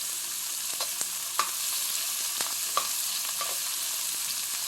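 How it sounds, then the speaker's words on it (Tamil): Mustard seeds and fenugreek frying in hot oil, giving a steady close sizzle dotted with small pops and crackles. "கடுகு பொரிச்சிட்டு வெந்தயம் போடணும்"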